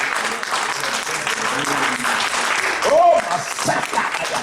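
A church congregation cheers and claps during a service, a broad steady wash of applause with a louder swell near the end; a voice exclaims briefly over it.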